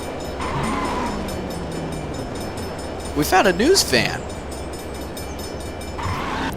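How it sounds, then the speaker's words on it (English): Train rumbling past in the driving game The Crew, a steady rolling roar with a loud horn-like blast in the middle, while people talk over it. "We found our first train."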